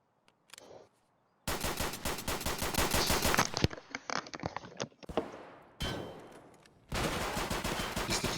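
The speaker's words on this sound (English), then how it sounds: "we'll be getting another addition to the 9x19 line of guns, the Beretta M9A3" Gunfire from a Beretta M9A3 9x19 pistol in the game Escape from Tarkov comes as loud, close bursts of rapid shots. They are separated by short pauses and small mechanical clicks and scrapes.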